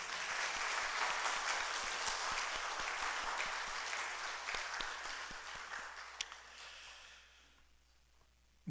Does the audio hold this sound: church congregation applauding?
yes